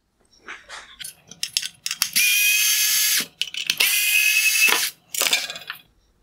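A powered screwdriver backs out T10 Torx screws from a 2020-2021 Mercedes-Benz CLA LED headlight reflector, two sustained whirring bursts framed by small ratcheting clicks and handling taps, close and distinct with no talking.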